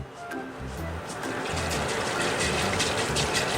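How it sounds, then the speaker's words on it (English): Washed rice tipped into a pot of water for porridge, a steady splashing pour that swells after the first second and holds, close and fairly loud, with no voices. "I'm also gonna add in our rice."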